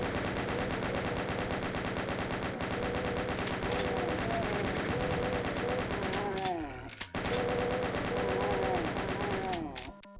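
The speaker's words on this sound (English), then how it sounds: "Chain gunners. So many chain gunners." Chaingunner enemies fire in the video game Doom, a dense, continuous rattle of rapid game gunfire close and loud, briefly cutting out midway before resuming, with no talk over it.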